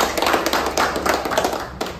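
Audience clapping at a company's 5th anniversary event for an electric bike showroom, a dense, steady burst of many hands applauding close by with no talk.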